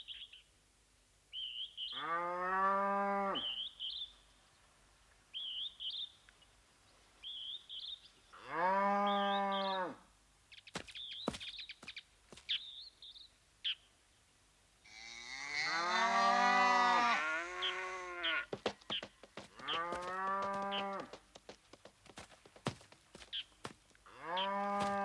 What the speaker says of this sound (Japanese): この子牛は飼育業者に売られるのを待っているところだ。